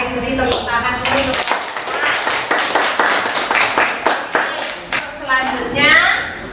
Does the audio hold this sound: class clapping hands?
yes